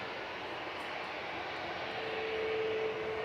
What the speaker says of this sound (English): Lufthansa 947 to Frankfurt, the AIQU A321 Classic, 24 years old.